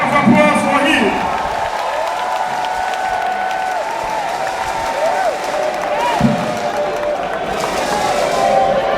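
Crowd applause rolls through a political launch event for the Alliance for Revolutionary Change, steady and continuous with cheering voices and shouts carrying over the clapping throughout.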